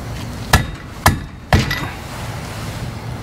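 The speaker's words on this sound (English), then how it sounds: "I'm gonna get a socket that fits over it and give it a little tap on." Three sharp metal taps, about half a second apart, as a socket is hammered onto the brake lock plate of an early VW bus front disc brake, followed by quiet.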